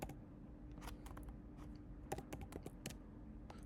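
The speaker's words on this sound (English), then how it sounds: "I be typing with 2 fingers." Quiet two-finger typing on a computer keyboard, a sparse, irregular patter of light clicks and taps close by, with no talking.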